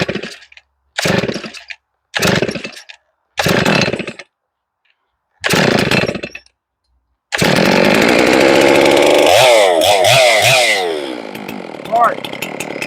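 A chainsaw milling a huge white pine log revs in five short bursts with gaps between them, then roars continuously and loudly as it cuts, its pitch wavering under load.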